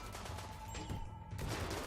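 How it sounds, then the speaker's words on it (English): Rimworld colonists open fire in a game battle, a dense burst of rapid gunshots crackling close and loud for a couple of seconds. "Alright, you guys go ahead and open fire."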